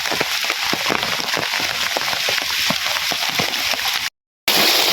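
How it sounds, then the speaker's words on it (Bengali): Heavy rain pours steadily on a village, a dense continuous wash with scattered drips and splashes, loud and close, with a brief dropout near the end and no talk. "বাইরে প্রচুর বৃষ্টি"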